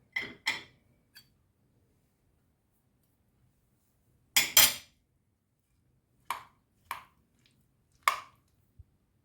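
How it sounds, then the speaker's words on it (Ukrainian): Sparse wet squelching and light clinks as a spoon stirs a salad with mayonnaise and cheese, in short bursts separated by silence. "І все гарненько вимішаю"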